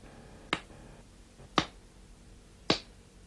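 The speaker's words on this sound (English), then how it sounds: "Then the eldest princess clapped her hands" Three sharp, crisp hand claps ring out close by, spaced about a second apart, each one alone against a quiet background.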